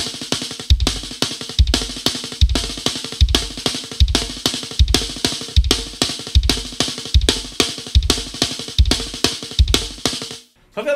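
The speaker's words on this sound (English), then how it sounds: "what we're doing here is basically the single paradiddle and two kicks after the single paradiddle" A drum kit repeats a single paradiddle on the snare followed by two bass-drum kicks, looping steadily about a dozen times before stopping.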